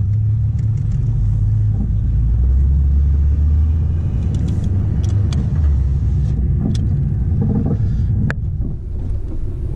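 A G8 car's engine rumbles deep and steady at close range, a loud continuous low drone with light wind buffeting and no voices.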